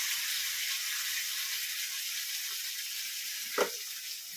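Curry leaves, turmeric and cumin sizzling in hot oil in a home kitchen, a constant bright hiss close up, with one brief clink partway through and no talk.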